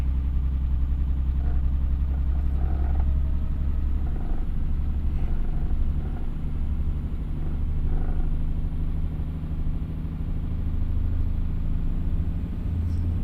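A truck with a ZF 12-speed transmission pulls up a hill with a deep, steady engine drone heard from inside the cab, its rumble rising and falling slightly as it labours, with faint clicks now and then.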